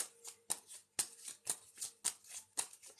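Tarot cards are shuffled and drawn by hand in quick, regular riffling bursts about every half second, crisp papery snaps close to the mic with no talking.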